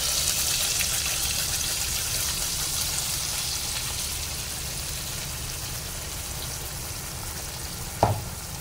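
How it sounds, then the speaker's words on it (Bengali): Ground spice paste poured into hot oil with Kashmiri chilli powder sets off a steady, loud sizzle and crackle of frying that holds throughout, ending with a short clank near the end. "আবার আমি ঢেলে নিচ্ছি আমি যে পিষে নিলাম মশলাটা।"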